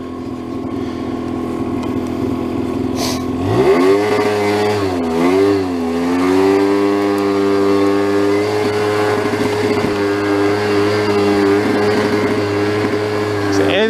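Broken scooter engine idling, then revving up and down in uneven swells, a steady buzzing drone that breaks up and stumbles above half throttle, loud and close, with a voice talking over it.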